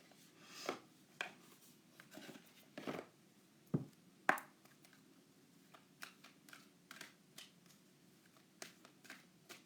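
Tarot cards being shuffled by hand in a quiet room, soft intermittent riffles and taps spread out in short bursts, close and faint, with no talking.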